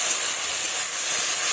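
Cumin, ginger, onion and dried chilli paste sizzles steadily in a hot pan, a constant close hiss without pauses or talk.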